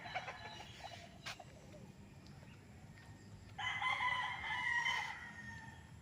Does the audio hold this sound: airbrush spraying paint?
no